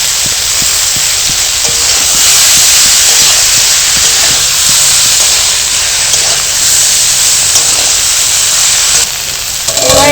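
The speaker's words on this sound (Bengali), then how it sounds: "লঙ্কাগুলো ফাটিয়ে দিয়ে দিলাম" Green chillies splutter in hot oil for a vegetarian bottle-gourd greens dish: a loud, constant, close hiss with quick crackling pops in the first few seconds, then steady sizzling, with no voices.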